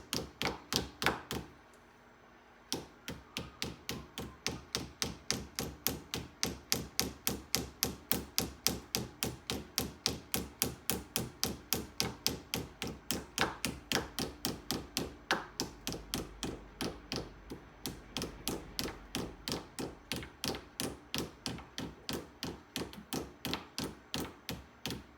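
A hammer taps out a dimple in a front brake cable fitting on a Triumph 3TA motorcycle, striking in a fast, even series of sharp metallic blows, close and clear, with a short pause near the start and no talk.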